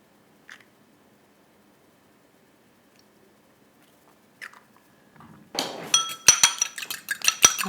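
Egg white being mixed in a bowl for apple yogurt swirls: after near silence, quick rhythmic clinking of a utensil against the bowl, close and fairly loud.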